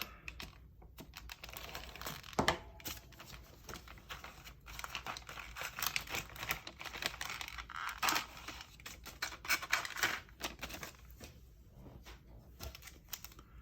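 A model kit package for a Fanhome 1/8 scale 1966 Batmobile is cut open, with close crinkling plastic, snipping and tearing clicks in an irregular burst of handling noises, no talk.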